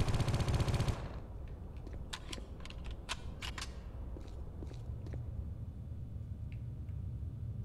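Gunfire in the video game Geist: a loud, close burst of shots for about a second, then scattered sharp, fainter shots popping at a distance over a low background hum.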